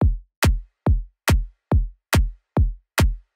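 Eight evenly spaced kick and snare drum hits run through an envelope follower, each a sharp, loud, punchy thump with a short decay, repeating in a steady rhythm with silence between.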